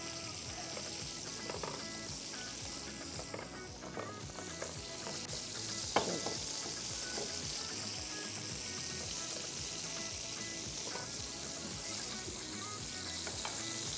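Paratha frying in oil on a griddle while pressed at the sides, a soft, continuous sizzle with faint crackles and occasional light taps, fairly quiet and without talk.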